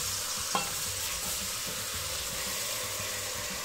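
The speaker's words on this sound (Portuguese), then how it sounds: "você põe o rabo na panela pra fritar" Oxtail pieces fry in a very hot pressure cooker pot, giving a loud, dense, continuous sizzle with faint stirring scrapes and no voices.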